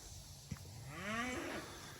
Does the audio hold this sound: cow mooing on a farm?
yes